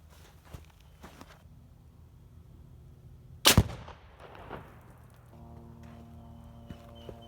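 Muzzleloader with a Federal 209A shotshell primer fired at an outdoor range: a single sharp, loud shot cracks out midway through quiet footsteps and handling noise, followed by a short echoing tail.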